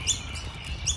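Magpie chatter: two sharp close chirps, one at each end of a brief moment, over low background hum.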